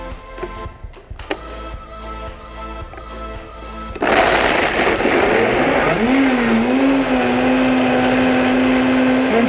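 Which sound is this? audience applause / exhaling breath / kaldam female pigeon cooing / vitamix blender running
vitamix blender running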